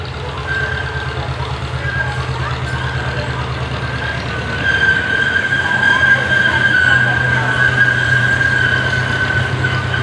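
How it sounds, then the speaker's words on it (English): A zoo train rolls past at the Maryland Zoo in Baltimore, a steady rumble with a high squeal that swells louder midway as it draws near, with faint voices in the background. "Here is the train I was on earlier."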